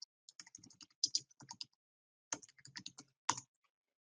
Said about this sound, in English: click the return key